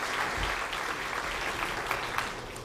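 A bowling alley crowd claps and cheers to lift a struggling player, a continuous mid-distance roar of applause with scattered shouts.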